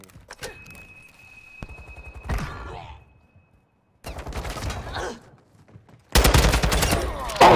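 Sniper gunfire in a shooter video game comes as a few separate loud blasts, with gaps of near silence between them and a final heavy burst, close and punchy.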